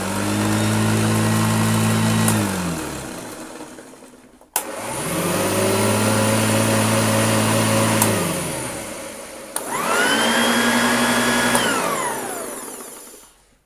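Three bursts of a loud motor whine from a vintage Hoover Junior vacuum cleaner with a plastic fan, each spinning up, holding a steady droning hum, then winding down, with no voices.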